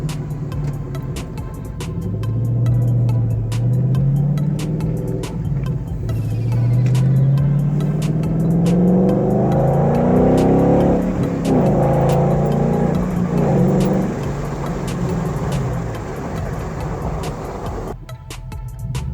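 A 2012 Mustang GT V8 fitted with a Flowmaster Outlaw exhaust is revved repeatedly up and down, its loud, deep exhaust note rising and falling steadily close by, with no voices.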